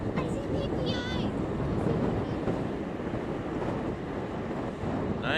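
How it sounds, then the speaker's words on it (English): Strong wind buffets the microphone on an open ferry deck during a crossing to Prince Edward Island, a loud, constant rushing roar with engine and water noise mixed in, and a brief voice near the start. "Pretty windy up here. Very windy."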